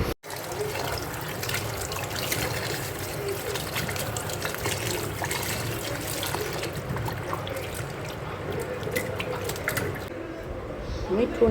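Water pours and trickles steadily into a container of mangoes to soak them for pickle, a continuous splashing flow close by with someone talking over it.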